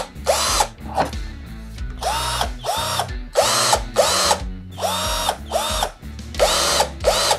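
A Xenon CDID1845 18V cordless impact drill runs in repeated loud, close bursts of high-pitched whine with hammering pulses, separated by brief pauses, with no talking.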